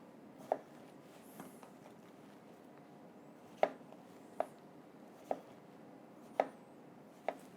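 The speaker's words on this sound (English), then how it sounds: "just cut your strawberries into quarters" A knife cutting strawberries into quarters on a board, heard as six sharp, isolated taps spaced irregularly over several seconds against a quiet kitchen background, with no talk.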